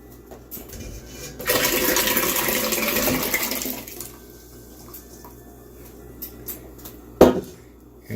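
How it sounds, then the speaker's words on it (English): Blueberries poured into hot boiling water for blueberry wine, a rushing splash and pour of about two and a half seconds, then quieter trickling and a sharp knock near the end. "What I want to do now is I want to pour the berries in the hot water"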